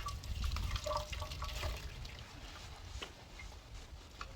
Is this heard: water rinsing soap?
yes